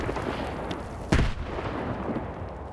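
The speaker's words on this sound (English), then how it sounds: "all you have to do is lob a grenade into the damaged silo." A grenade explodes inside a damaged silo in the video game STALKER 2, one sharp, loud blast that rises out of a steady rumbling background and then fades back into it.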